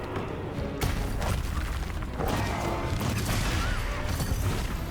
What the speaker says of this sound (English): it did the big explosion to be like a counter